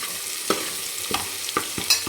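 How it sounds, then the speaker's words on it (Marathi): Ginger, garlic and green chili sauté in a pan as a spatula stirs and scrapes in quick irregular strokes over a soft, steady sizzle, close and fairly quiet. "हे आलं लसूण आणि हिरव्या मिरचीचं आपल्याला चांगला कच्चेपणा जाईपर्यंत आपल्याला हे परतून घ्यायचे"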